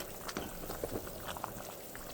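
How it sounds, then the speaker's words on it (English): Vegan ramen broth of vegetables bubbles in a pot on the stove, soft scattered pops and gurgles under a quiet, steady hiss. "You see the bubbling."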